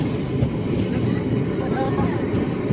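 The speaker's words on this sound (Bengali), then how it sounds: "এখান থেকে ট্রেন ছাড়ি দিয়েছে কোস্টাল স্টেশন থেকে" A continuous low rumble and rattle of a train departing Kostal station near Joy Chandi Pahar, Purulia, heard from onboard, steady and loud, with murmuring voices underneath.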